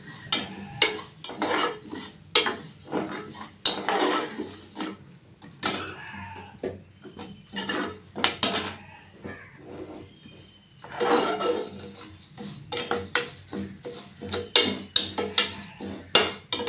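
Moong dal is dry-fried in a pressure cooker and stirred with a metal spoon, giving irregular bursts of scraping and clinking against the pot, with brief quiet gaps between stirring strokes.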